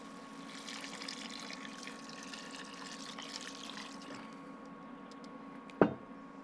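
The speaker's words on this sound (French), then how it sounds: "je vais rajouter tout ce que j'ai récupéré, donc le mélange d'eau et de gras" Water mixed with fatty poultry broth, left from cooking gizzards, pours steadily into a cooking pot as a soft, continuous trickle, with a brief louder splash or clatter near the end.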